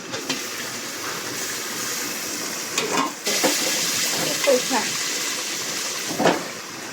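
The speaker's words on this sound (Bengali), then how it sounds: "এই তো নাড়াচাড়া দিয়ে এখন আবার ঢেকে দিব।" Bhuna khichuri, a rice and lentil mix, is stirred in a pot with scraping, shuffling strokes over a continuous frying hiss, while a voice speaks briefly nearby.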